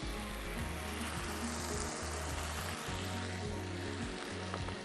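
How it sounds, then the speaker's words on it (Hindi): Donuts deep frying in Fauji Supreme cooking oil give a steady, dense sizzle and bubble that runs alone throughout, close and even in level. "फौजी सुप्रीम कुकिंग ऑयल डोनट्स होंगे डीप फ्राई"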